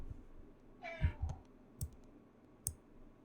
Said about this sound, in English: do you hear a meowing cat in the background?